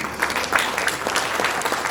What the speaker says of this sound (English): Please, a clap of applause for